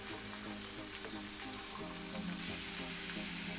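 Beans and chopped carrot with salt fry in a pan for a Kerala thoran, giving a continuous soft sizzle with faint tapping and scraping, fairly quiet and without any talk.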